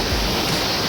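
Clean water from a mountain stream runs through a joined pipe at a village field, giving a loud, steady rushing and splashing roar with no pauses.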